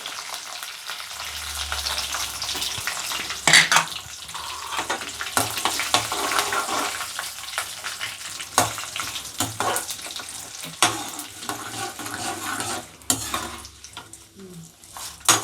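Curry leaves and asafoetida crackle and sizzle in hot oil for a tempering, a steady close frying hiss with sharp pops and stirring scrapes running throughout.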